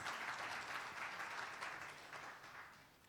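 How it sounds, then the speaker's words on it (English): A panel discussion audience applauds steadily, a dense, slightly distant wash of clapping that continues for the whole short stretch and eases off a little at the end. "a round of applause once again for our amazing, incredible partners"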